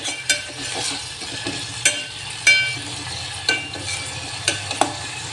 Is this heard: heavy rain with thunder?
no